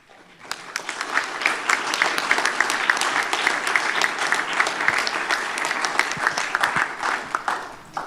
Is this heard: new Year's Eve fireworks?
no